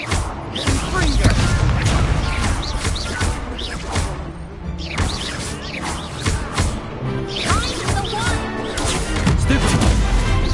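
Spell blasts and crashing impacts from a Confringo cast in Hogwarts Legacy, in a busy, dense game mix of repeated bangs and crunches, with voices in the background throughout.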